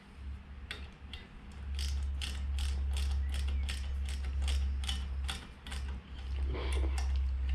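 A ratchet tightens bolts on a Toyota FJ45's brake, producing a quick, even run of crisp clicks that goes on for several seconds over a low hum before a short pause.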